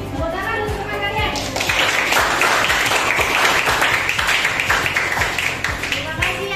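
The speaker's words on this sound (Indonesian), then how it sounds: "Tepuk tangan untuk teman kalian." Students in a classroom burst into loud, sustained applause for their classmates, dense clapping close by for several seconds, with voices audible before it starts.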